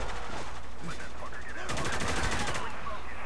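Gunfire in the Spec Ops: The Line video game, a dense automatic burst in the second half after scattered earlier shots, heard up close under a continuous loud battle backdrop.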